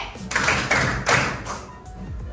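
A few sharp claps ring out in a group clap-count attention game, arriving in short separated bursts with brief pauses between them, fairly close and moderately loud.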